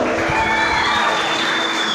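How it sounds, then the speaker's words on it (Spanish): A crowd of neighbours at a community gathering clapping in a dense, continuous wash of applause, moderately loud and steady for the full two seconds with a light undertone of cheering. "¡Fuerte aplauso para el Gabriel!"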